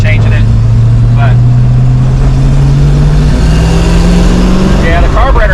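A 1966 Ford Mustang engine with a carburetor that has flat spots drones loudly from inside the car while driving, its pitch rising slowly as it accelerates, with talk over it.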